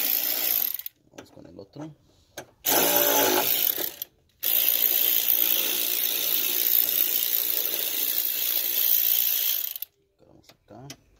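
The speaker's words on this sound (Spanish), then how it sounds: "Vamos a aflojar los tornillos que agarran la caja de abajo." A ratchet on the screws of the fuse box under a 2014 Toyota Corolla, heard as repeated bursts of rapid clicking broken by pauses, loud and close, with someone speaking briefly between bursts.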